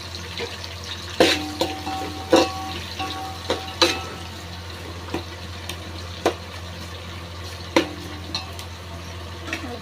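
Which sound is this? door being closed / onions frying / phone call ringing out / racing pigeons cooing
onions frying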